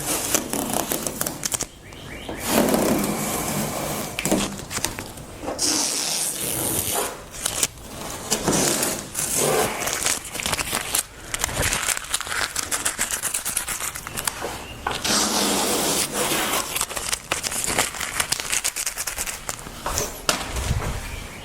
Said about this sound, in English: So let's go ahead and remove the tape and see what we have here.